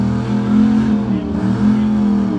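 A Malibu drag race car in the Street Race 275 class makes a pass at a drag strip during a summer racing event, its engine a loud, steady, close roar with slight rises and dips in pitch.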